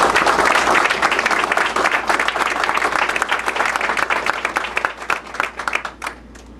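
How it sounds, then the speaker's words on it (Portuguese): Applause for a guest at a party political gathering, a crowd clapping loudly and steadily, then thinning into scattered individual claps as it fades toward the end. "oferecendo uma salva de palmas"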